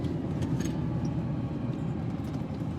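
A 1970s Ferrari 308 GTB Vetroresina pulls along the road, its engine a steady, fairly loud low growl heard from inside the car, with no voices.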